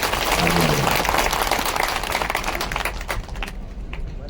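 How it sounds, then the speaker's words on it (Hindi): Applause from the crowd at a tribal community gathering in Badarwas, a dense burst of clapping that gradually thins and fades over a few seconds, with a faint voice underneath. "कृष्णा जी के लिए जरा तालियों की गड़गड़ाहट से।"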